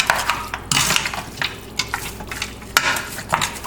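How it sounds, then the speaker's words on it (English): Goat meat being mixed with red seasoning, with quick scraping and clinking strokes of a utensil in the pan over a low background hiss, close by. "And then just mix it."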